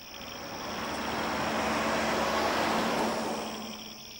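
A single car passes at night, swelling from faint to a broad whoosh at its closest and fading away again over a few seconds, alone with no talk.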